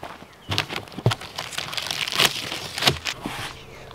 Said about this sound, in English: let's go ahead and unbox our shredder